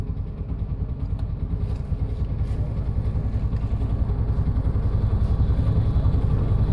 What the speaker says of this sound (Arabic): كده بدأت الحرارة تنزل طالما المروحة اشتغلت وبردت الموتور